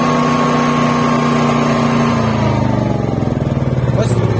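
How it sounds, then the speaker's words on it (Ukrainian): A Senci SC9000I 8 kW inverter generator runs loud and close, its steady engine drone shifting lower and more uneven partway through as it changes speed, with a pulsing rhythm toward the end. "Бачимо, запрацював він голосніше і можемо його виключати."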